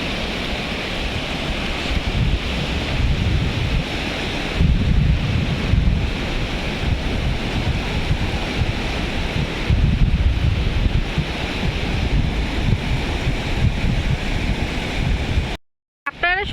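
Sea waves break and wash up close on the Gulf of Oman shore, a loud, continuous roar of surf with heavy wind buffeting the microphone, ending in a brief cut.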